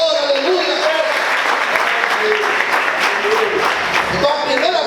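A church congregation applauds in steady, dense clapping that fills the space at an even level, with voices and musical tones sounding through it.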